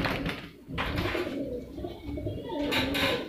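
Punjabi Malvai pigeons coo close by in soft repeated throaty calls, with brief gaps between phrases.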